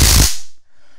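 A brief, loud crackling zap of a stun gun spark that cuts off quickly into quiet.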